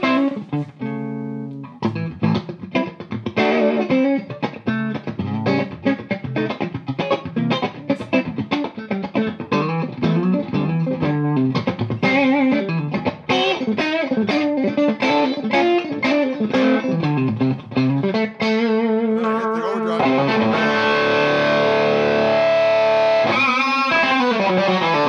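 Electric guitar played through a Gristle King distortion pedal into a Royalist amp, a continuous run of crunchy, overdriven chords and riffs, loud and close with no voices.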